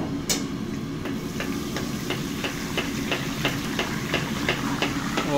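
Boondi for besan laddoo frying in hot oil in a village kitchen, a steady dense sizzle with regular soft tapping pulses about every third of a second, close and continuous.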